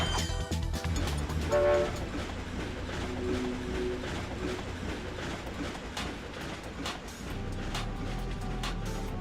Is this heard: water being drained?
no